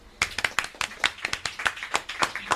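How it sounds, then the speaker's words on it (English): A round of applause from a live audience at a charity podcast event in a Southampton venue, with sharp, distinct handclaps in a fairly thin, uneven rhythm over about two and a half seconds, close and moderately loud. "a round of applause again then for Saskia and Kirstie"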